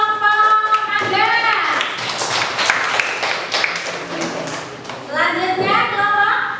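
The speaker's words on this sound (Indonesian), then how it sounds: "Tepuk tangan untuk kelompok mangga." Children in a classroom clap for a group of classmates, a few seconds of lively clapping with young voices calling out before and after.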